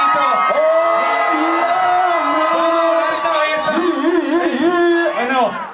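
A crowd at a rap battle event shouts and cheers together in one loud sustained roar with high whoops on top, swelling and wavering for several seconds.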